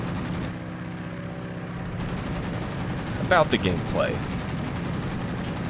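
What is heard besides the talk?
gunfire and explosions in World of Warplanes video game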